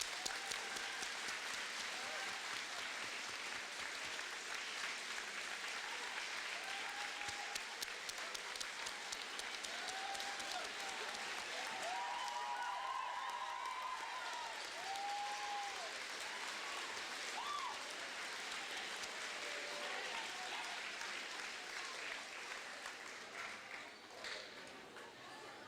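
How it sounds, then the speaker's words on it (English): Students and staff at a middle school Veterans Day assembly give the visiting veterans a long, sustained round of applause that fills the hall, then slowly tapers off near the end. "Let's give them a round of applause"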